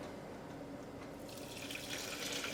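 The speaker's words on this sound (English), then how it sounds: "and pour this through the cheesecloth." Homemade elderberry syrup streams steadily through cheesecloth, a continuous close liquid pour and trickle that grows slightly brighter toward the end, with no talking.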